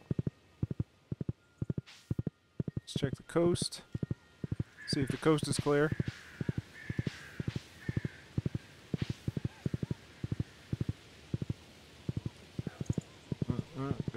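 Horse hooves clip-clopping in the Stardew Valley video game, a rapid, evenly spaced run of crisp steps throughout, with someone talking briefly over the middle stretch.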